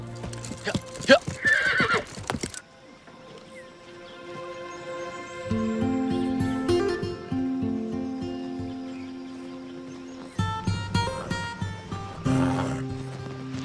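Horses whinny loudly at the start and again near the end, with a steady clip-clop of hooves and a swelling music score in between.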